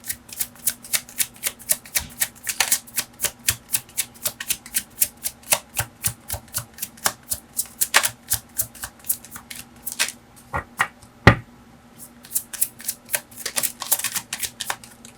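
Tarot cards being shuffled by hand, a fast run of crisp, evenly spaced riffling flicks that continues steadily throughout, close and fairly loud, with a brief pause and a single sharper tap near the end.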